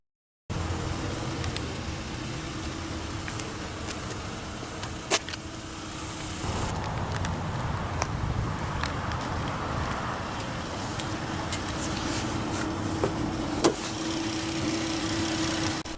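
A 2019 Chrysler 300 Touring-L with its Pentastar 3.6-liter naturally aspirated V6 catches after a brief silence and settles into a steady, close idle, with a shift in engine tone partway through and a few small clicks.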